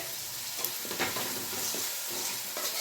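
Chopped tomato frying in a pan for a spicy chicken pepper dry, a steady loud sizzle with scraping stirs throughout, no voices.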